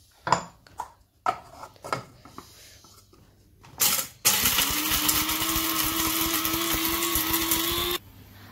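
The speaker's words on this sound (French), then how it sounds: "On va prendre tous ces épices et on va le mixer dans le mixeur." A small electric grinder whirs loudly and steadily for several seconds as it grinds whole spices for gingerbread, after a few clattering knocks and clicks of the spices and lid being handled.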